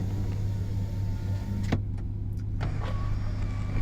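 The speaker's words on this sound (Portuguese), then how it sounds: "se quiser abrir a janelinha ali atrás" A RAM 1500 TRX Lunar Edition pickup's electric rear window whirs briefly, heard with a short motor click and soft clunks under a steady low cabin hum.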